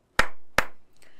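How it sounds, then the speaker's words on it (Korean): Two sharp hand claps close by, about a third of a second apart, each crisp and loud with a short decay, followed by a faint trailing sound. "저 박수."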